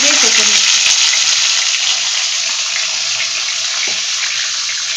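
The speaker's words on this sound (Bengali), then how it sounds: "এরপরে আমি বাদবাকি মাছগুলো ভেজে নিই এরকম করে।" Fish pieces fry in hot oil for a pineapple fish curry, a steady, loud crackling sizzle filling the whole stretch with a few soft clinks of handling early on.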